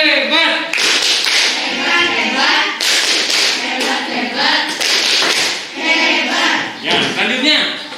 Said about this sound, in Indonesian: Tepuk hebat.